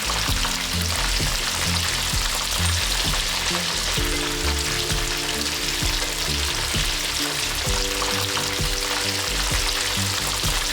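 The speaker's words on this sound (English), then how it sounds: "Now that the fish is finished frying, you just want to get them nice and crispy" Oil sizzles and crackles steadily as floured fish fries in a pan for escovitch fish, a dense continuous hiss with occasional stirring noises underneath.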